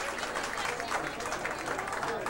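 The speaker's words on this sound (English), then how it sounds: "give them a round of applause." Audience applause at a 2003 Carolina shag dance contest, a dense, steady wash of many hands clapping that holds evenly from start to finish.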